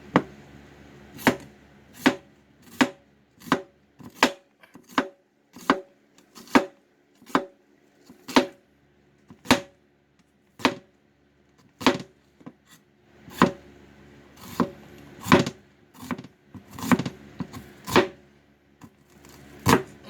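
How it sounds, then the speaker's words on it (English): Knife slicing onions thinly on a board, about two dozen crisp, separate cuts in an uneven rhythm, close and clear with no talk. "There we go, 2 sliced onions."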